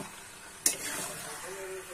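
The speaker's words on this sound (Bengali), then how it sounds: "ভালো করে নাড়ানো হচ্ছে।" Food stirred while frying in a pan, a steady soft sizzle with a sudden scrape and hiss as the contents are turned, faint and close, with a voice quietly present.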